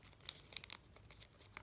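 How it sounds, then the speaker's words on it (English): Paper being folded and creased for origami, a few crisp crinkling snaps close by, then softer rustling, with no talking. "And now we're going to fold the sides again to the vertical crease."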